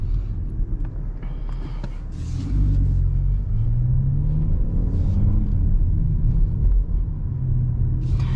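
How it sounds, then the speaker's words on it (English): Interior of a 2025 BMW M235 Gran Coupe driven in normal mode, a steady low engine and road rumble that swells as it accelerates, continuous and moderately loud. "let's see how this car drives when we have it in normal mode"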